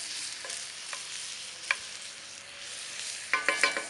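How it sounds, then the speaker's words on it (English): Hamburger meat browns in a pan with garlic, a continuous bright sizzle with a few sharp utensil taps and scrapes from stirring, louder clicks bunching near the end. "give that a little stir, let that hamburger continue to brown up a little bit"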